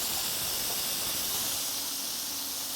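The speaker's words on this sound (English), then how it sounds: "Now that's a burger sear." A burger patty sears loudly on a hot surface, giving a continuous, close, even hiss and sizzle with no talk.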